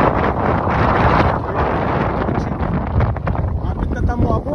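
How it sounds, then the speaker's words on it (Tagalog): Steady wind roars across the microphone on a windy, cloudy day near the sea with big waves, a loud continuous rushing that stays constant throughout with no voices. "Weather has been windy and cloudy."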